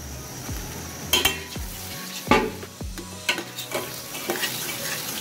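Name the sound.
yogurt added to frying masala, sizzling and stirring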